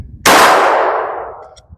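A single loud handgun shot rings out at a shooting range, the last round fired. The sharp crack is followed by a ringing tail that decays over about a second.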